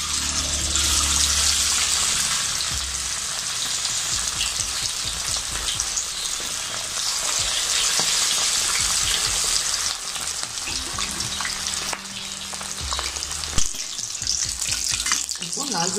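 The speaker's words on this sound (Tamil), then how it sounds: "மீதி இருக்க லாலிபப் சிக்கன்லாம் போட்டு நம்ம வந்துட்டு போட்டு பொறிச்சு எடுத்துக்கலாம்" Pieces of lollipop chicken deep-fry in hot oil, giving a loud, steady, dense sizzle and crackle that runs throughout with slight swells, and no voices are heard.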